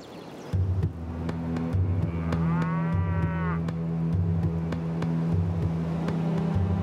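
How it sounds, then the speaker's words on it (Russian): A single drawn-out cow moo rises over a constant low, throbbing engine hum. "коровы, скрывающиеся от палящего солнца в тени деревьев"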